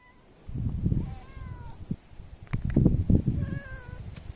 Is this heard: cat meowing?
yes